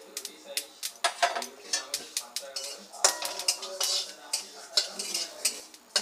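Poppy seeds fry over low heat for a chalta and amra chutney while a utensil clatters and scrapes against the pan in quick, uneven strokes, close and fairly loud, with only a faint sizzle beneath.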